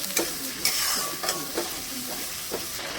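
Spice paste of ground coriander, cumin, turmeric and chilli powder frying in oil with tomato, a soft sizzle under a few spaced scraping stirs, close and clear with no voices.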